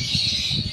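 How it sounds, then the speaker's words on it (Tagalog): Birds call on a morning in the rainy season, a short burst of squawking chirps over a steady bright background hum, fairly close and loud. "Ganito yung maririnig mo, yung mga huni ng ibon"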